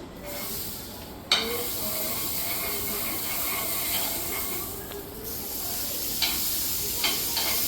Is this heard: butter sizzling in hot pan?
yes